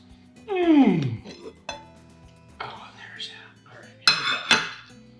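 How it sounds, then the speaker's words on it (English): Lid lifted off a crock pot of slow-cooked pork, a brief metallic clink and clatter of the lid and utensils, close and fairly loud, with a voice speaking around it. "So let me take the lid off."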